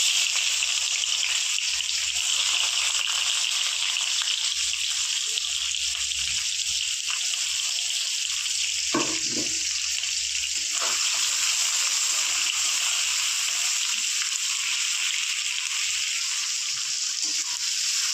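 Chopped onion frying in oil with whole spices and two bay leaves gives off a steady, loud sizzling hiss, with a few brief clatters partway through.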